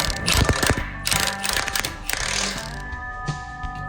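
Bolts with spring washers being tightened on a John Deere combine header pea auger, a rapid series of close metallic ratcheting clicks and taps in bursts, loud and alone without talk.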